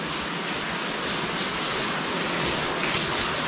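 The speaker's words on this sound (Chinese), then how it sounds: "因为外面在下雨啊" Steady rain falls outside a cave-like burial site room where water is leaking in, a dense continuous hiss with no voices, close and unchanging throughout.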